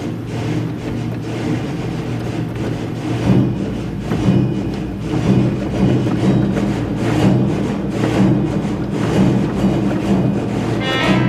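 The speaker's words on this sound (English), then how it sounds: "This is from what we call the traps, the toy counter department." A Wurlitzer theatre organ's traps, its toy counter effects, clatter and thump in a dense, loud, continuous wash of percussive noise with repeated hits throughout.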